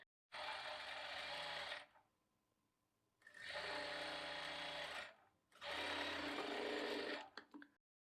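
Sewing machine running in three steady bursts of a few seconds each while stitching a shaped lining belt for a blouse, with short quiet pauses between runs; no talking.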